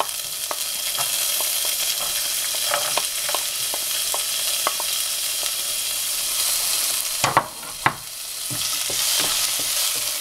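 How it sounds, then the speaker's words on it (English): Ginger and garlic frying in hot oil alongside spluttering seeds for a paneer tikka masala, giving a steady loud sizzle with scattered sharp pops and crackles, two bigger bursts near the end, and no talking. "Let the seeds splutter. The seeds are spluttering. Now we are going to add our ginger garlic."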